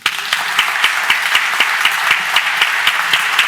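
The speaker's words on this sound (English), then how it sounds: "can we give the ambassador a huge round of applause for joining us?" An audience at the Cambridge Union applauds the Israeli ambassador, steady, loud clapping from many hands filling the room throughout, with no voices on top.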